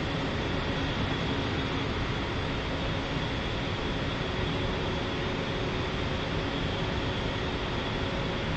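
An A-10C jet in the DCS flight simulator taxis toward the runway, its engines giving a constant loud roar and whine with no break for the full stretch.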